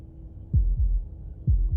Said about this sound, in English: A heartbeat, followed by another,